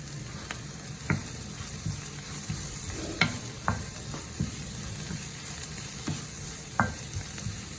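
Chopped mushrooms and vegetable rice fry in a pan as a spoon stirs them. A steady sizzle runs throughout, with sharp scraping clicks of the spoon against the pan at irregular intervals. No one speaks.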